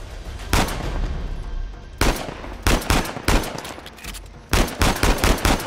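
Sniper fire during a firefight in the video game Uncharted 4 gives loud, close gunshots: a single crack, then a spaced pair, then a rapid cluster of shots near the end, with no talking.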